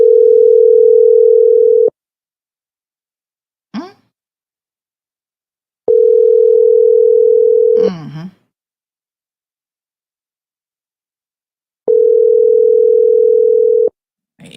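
Telephone busy signal: three long, loud steady tones, each about two seconds, separated by gaps, with brief clicks and a short burst of voice between them.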